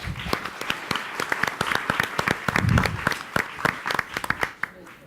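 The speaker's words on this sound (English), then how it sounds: "Let's give them a hand clap." Audience at a quiz bowl semifinal between Fisk and North Carolina Central claps steadily, with dense individual hand claps and a faint voice partway through.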